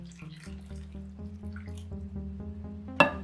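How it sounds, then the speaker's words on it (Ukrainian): Boiled water poured in a steady stream into a dish of meat, its pitch rising as it fills, ending with a brief sharp clink. "вливаємо один стакан кип'яченої води"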